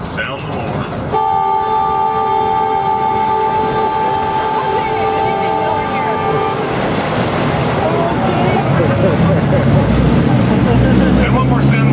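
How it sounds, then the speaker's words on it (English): A tour boat's horn blasts loud and steady for about five seconds, then gives way to engine rumble and water wash, with someone talking over it. "Drop it into first, sound the horn."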